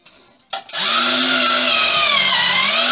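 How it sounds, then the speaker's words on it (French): A blender purées chickpeas for houmous, starting with a brief knock and then settling into a loud, steady motor whir with a high whine that runs continuously to the end. "Et bien on va commencer à mixer les pois chiches"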